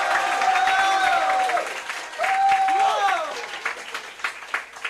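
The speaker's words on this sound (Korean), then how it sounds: "큰 환호 부탁드리겠습니다." A crowd applauds and cheers at a political party's youth committee launch rally in South Korea, a steady wash of clapping that rises and falls while a voice carries over it.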